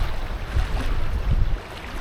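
Strong wind gusting over a canoe on a lake, with water sloshing against the hull; a loud, continuous rumbling roar buffets the microphone throughout.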